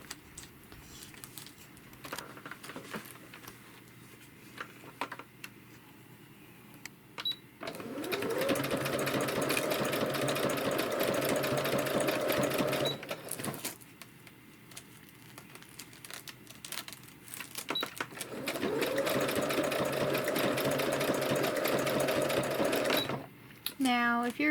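Sewing machine running a large, sturdy stitch through washcloth fabric, two long steady bursts of rapid stitching with quieter pauses, fabric rustling and handling between them.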